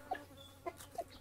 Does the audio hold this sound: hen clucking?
yes